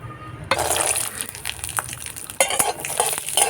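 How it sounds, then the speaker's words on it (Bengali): Peanuts fry in mustard oil in a wok, giving a bright crackling sizzle that jumps up suddenly as they go in and keeps bubbling. "এবার কড়াতে সরিষার তেল দিয়ে দিলাম দিয়ে বাদামগুলো ভেজে নেব"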